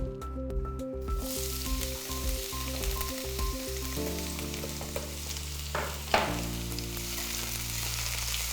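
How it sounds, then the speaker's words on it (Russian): Sliced onion half rings frying in a pan, a steady close sizzle with some stirring, under background music. "Нарезанный полукольцами лук я кладу в сковородку."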